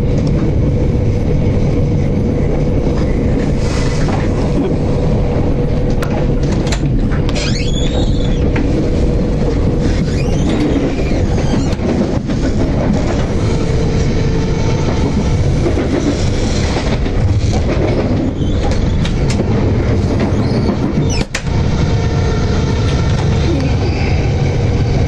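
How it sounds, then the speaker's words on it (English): A train rumbles continuously near Euston station in London, loud and close throughout, with a steady roar of wheels and rail carriages and occasional metallic clicks and squeals. "Just seeing the Euston train, we've both crossed the same time."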